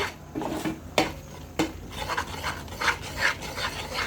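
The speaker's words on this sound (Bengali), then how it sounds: "এখন দিয়ে দিচ্ছি চকলেট ভালো করে মিশিয়ে নিচ্ছি" Chocolate being stirred into a thickening bread-dessert filling over medium heat. A spoon scrapes and rasps against the pan in repeated close strokes, with occasional louder knocks and no voices.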